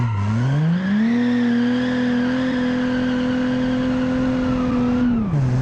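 A 1956 family sedan driven in BeamNG, its engine revving up, then holding a steady loud drone before dropping off near the end, close and continuous with no voices.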